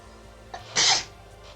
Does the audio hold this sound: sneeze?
yes